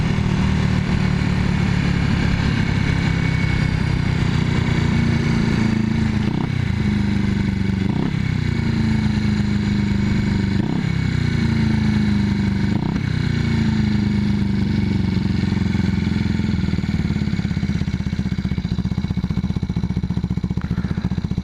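A 1981 Yamaha XS400 Heritage rides along with its choke slightly on, a loud, close engine drone whose pitch climbs and drops sharply several times as it shifts through gears, under steady wind and road noise.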